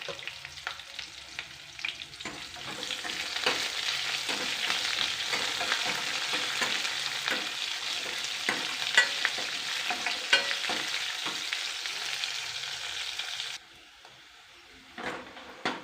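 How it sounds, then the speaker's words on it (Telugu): Onion pieces frying in a pan until golden for a cucumber dal, a continuous close sizzle with repeated spoon-stirring scrapes, stopping abruptly near the end before a few faint clinks. "ఇందులో ఉల్లిపాయ ముక్కలు కూడా వేయాలి వేసి గోల్డెన్ కలరు వచ్చే వరకు ఫ్రై చేయాలండి"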